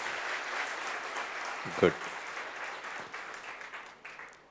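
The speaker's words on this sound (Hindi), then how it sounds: "तो फिर एक बार जोर से ताली बजाइए कर्नल साहब के लिए" An audience at a Brahma Kumaris talk claps loudly for the Colonel, a dense, steady patter of applause filling the room while a speaker briefly says a word over it.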